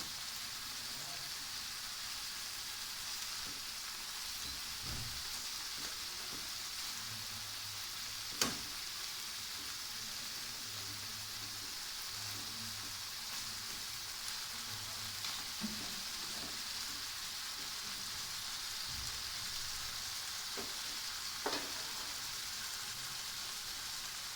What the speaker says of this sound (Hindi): हमने अपने चिकन को 3 से 4 मिनट तक शैडो फ्राई करना है